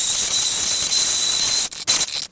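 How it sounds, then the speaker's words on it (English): A blender whirs loudly and steadily while blending tomato sauce ingredients, then stops and restarts in brief bursts near the end. "I'm going to take my blender and just blend all this together."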